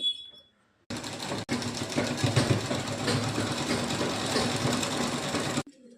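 A sewing machine runs in one steady, close, continuous stitching run as it sews the sleeve seam of a nightie, alone after a brief pause at the start.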